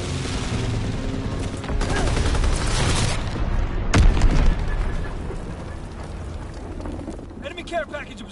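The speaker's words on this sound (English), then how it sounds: "Enemy bomb incoming." Bombs burst and gunfire rattles in Call of Duty WWII, a dense, continuous barrage with a sharp heavy blast near the middle and scattered shots throughout, under in-game voices.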